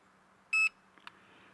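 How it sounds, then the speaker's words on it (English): A Hubsan ACE 2 drone controller emits a single short electronic beep, followed by a couple of faint clicks over a low steady hum. "the beeping goes away"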